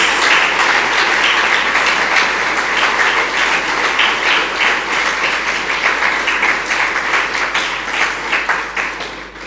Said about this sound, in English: a warm, rousing round of applause